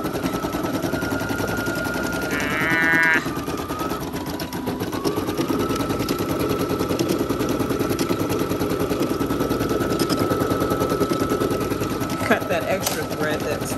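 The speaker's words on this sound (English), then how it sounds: "we're gonna go ahead and let that get to stitching" An embroidery machine stitches a pot holder, running as a steady, loud mechanical whir with rapid needle pulses throughout, with a brief higher mechanical chatter near the start and no speech.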